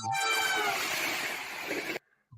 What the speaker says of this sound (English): You can hear the train.